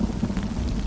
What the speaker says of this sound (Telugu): ఉరుము పడితే ఆ శబ్దమే భయంకరంగా ఉంటుంది